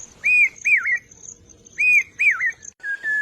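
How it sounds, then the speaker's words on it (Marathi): Common hawk-cuckoo calling over rice fields: clear, loud repeated whistled phrases in two paired bursts, rising and falling, with a shorter steady whistle at the end and no talk. "भात शेतीच्या मळ्यावर पावसा पक्षी त्याच्या मधुर स्वरात जणू पेरते व्हा पेरते व्हा अशी साद घालतोय"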